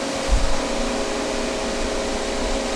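A refrigerant reclaimer pulls a Whirlpool refrigerator's sealed system into vacuum, giving a steady, close mechanical hum and airy rush with a brief low thump near the start.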